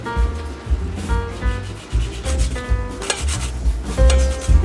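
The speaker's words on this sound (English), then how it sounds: "I'm gonna add a few tablespoons of lemon zest" Lemon zest being grated for a Louisiana king cake filling, a close, fairly loud series of rough rasping scrapes in uneven bursts, with no one speaking.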